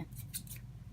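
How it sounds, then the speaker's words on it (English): Regular scissors snipping a cosplay wig, three quick crisp cuts in close succession near the start, close and fairly quiet over a low background hum. "this is just a regular scissors right here"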